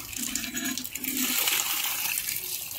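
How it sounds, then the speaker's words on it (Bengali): Water gushing from a hand-pump tubewell in a village, a steady rushing splash that stays loud and continuous from start to finish. "এটা ইউজ করলে জল পড়ে"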